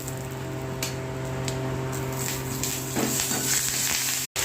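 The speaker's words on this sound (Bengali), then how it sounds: "এবার এই কারি পাতাগুলো দেবো।" Curry leaves hit hot oil already tempered with dried red chilli, cumin and black cumin for green curry-leaf hilsa, a steady close sizzle with faint crackles and a low background hum throughout.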